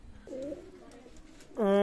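A Teddy pigeon coos softly, then a louder, steady coo swells near the end, with faint background noise between.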